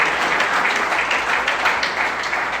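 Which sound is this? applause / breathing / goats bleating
applause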